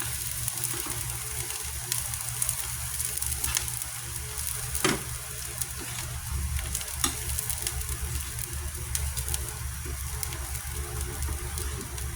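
Tiny hibi shrimp frying in a pan make a continuous, moderately loud sizzle with soft crackles and the occasional stir, steady and unbroken, with no voices.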